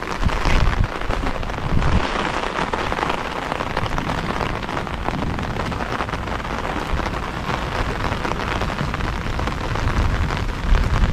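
Heavy storm rain pours down on a Japanese village as a loud, continuous broadband roar of downpour that holds steady without a break and carries no voices.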